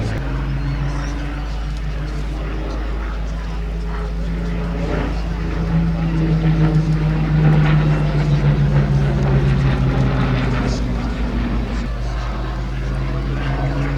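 Hawker Hurricane Mk.1 WWII fighter flying at an air show, its piston engine droning steadily and swelling slightly as it passes, with a commentator talking over it.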